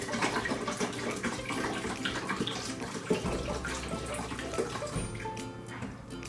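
Water pours steadily into the water container of a Keurig coffee maker, a continuous close splashing and gurgling stream with no voices throughout.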